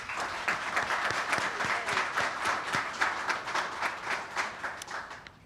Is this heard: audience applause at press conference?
yes